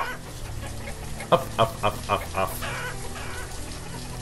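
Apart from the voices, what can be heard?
chickens clucking in the video game Banished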